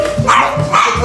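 A chihuahua barks at a dinner party in a Paris home: two sharp, close barks in quick succession, each high and yappy, set against a steady room murmur.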